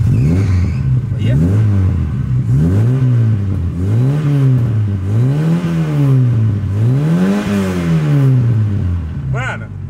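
A Chevrolet Chevette engine revs repeatedly after a carburetor repair, climbing and falling in a steady series of loud, close rises, with people's voices heard over it.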